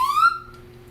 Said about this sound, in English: Of course, the slide whistle.